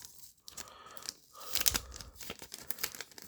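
A sticky adhesive flap is peeled open on a plastic bag holding the instruction booklet for a Flame Toys Kara Kuri Optimus Prime figure, giving close, crackly tearing and crinkling bursts in the middle and end.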